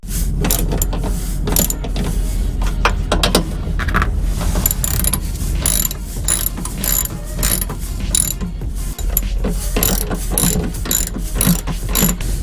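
A ratchet wrench tightens running board bracket bolts on a Ram truck, giving loud, close, rapid clicking in repeated bursts, with brief pauses between strokes and no talking.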